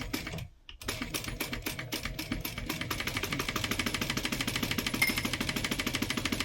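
A sewing machine with a nearly empty bobbin runs steadily and fast, giving a dense, even mechanical rattle after a brief stop near the start.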